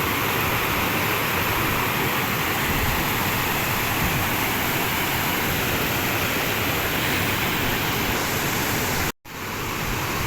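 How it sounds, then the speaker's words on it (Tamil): Steady, heavy rush of the Amaravathi River pouring over a weir in Tamil Nadu, a dense broadband roar close by, with one brief dropout near the end. "தண்ணி நிறையா போகுது எப்படி போகுதுன்னு பாருங்க"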